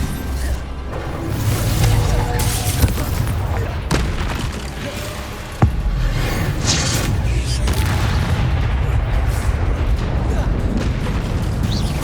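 Confringo and Bombarda spell blasts in Hogwarts Legacy on PS5 land as a run of loud booming explosions and crackling bursts, one sharp crack standing out, over constant dense game noise.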